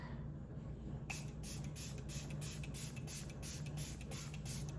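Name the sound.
spraying hypochlorous acid spray as facial toner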